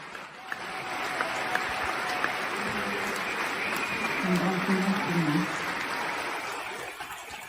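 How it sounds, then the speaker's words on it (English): Applause at the Cannes Film Festival opening ceremony sounds as a soft, distant wash of clapping, steady and fairly faint, with a murmur of voices mixed in. "I guess it was just the clapping."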